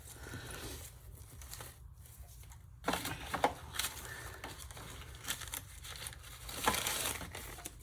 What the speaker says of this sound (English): some pieces of painted paper here